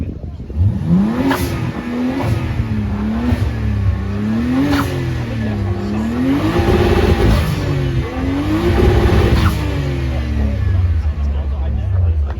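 Turbocharged BMW E30 engine revving repeatedly at an import car show, rising and falling in loud wavy sweeps over crowd chatter and voices.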